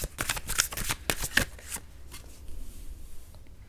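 A deck of tarot cards is shuffled in quick, crisp riffling bursts that get softer toward the end, close and clear, with no voices.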